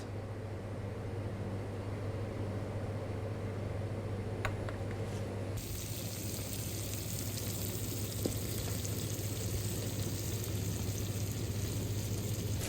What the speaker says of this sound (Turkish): hamsilerimiz güzel bir şekilde pişiyor